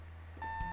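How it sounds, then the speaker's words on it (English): An alarm clock in the video game Doki Doki Salvation Remake gives a single short electronic beep, a clean steady tone lasting about a third of a second, clear and fairly quiet. "I groaned as I sluggishly moved my arm to shut my alarm off"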